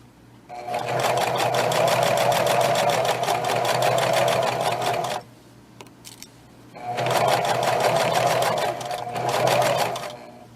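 Sewing machine stitching a mermaid bag, a loud rapid mechanical whir in two long runs separated by a short pause with a few small clicks, close and without talk.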